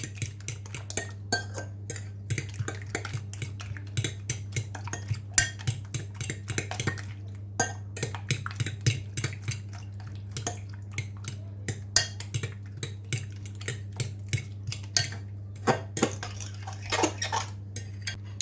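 A metal spoon mixes cumin powder and salt in a bowl, making repeated rhythmic clinks and scrapes against the bowl over a low steady background hum, with no speech.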